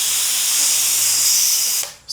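Loud, steady hiss of air escaping as an IK pump foam sprayer is depressurized after car washing, ending abruptly with a short final burst.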